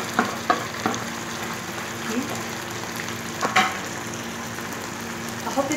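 Bell peppers sizzle in a pot with meat and onions for a stewed kebab with tomatoes, a steady moderate fry broken by several sharp scraping stirs.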